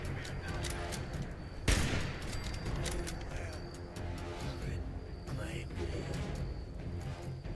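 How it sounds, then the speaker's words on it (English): Rapid gunfire from an enemy player in Fallout 76, dense close bursts with one sharp loud crack near the start, under a player talking. "somebody's shooting me from up top"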